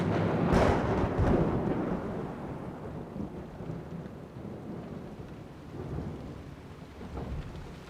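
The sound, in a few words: thunderstorm with heavy rain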